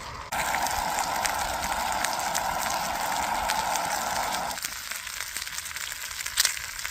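Pork belly frying in a pan outdoors in the woods, a steady hiss and sizzle at moderate level that drops off abruptly partway through, leaving faint crackles and a brief knock.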